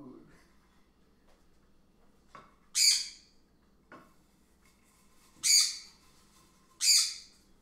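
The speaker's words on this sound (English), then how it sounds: "You guys hear the bird?" A pet bird lets out three loud, harsh squawks in separate bursts, close to the microphone, with quiet sounds and faint voice-like murmur in between.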